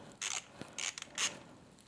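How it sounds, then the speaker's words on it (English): A ratchet turns counterclockwise on the 10mm cover nuts of a Suzuki GS500 motorcycle. There are three short, quiet bursts of close mechanical clicking. "ratchet counterclockwise"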